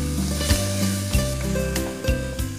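Tomato pieces land in a hot pan of oil while palak pulao is being cooked. A steady sizzle and frying hiss follow, with a few sharper bursts, set against a sustained tonal backdrop.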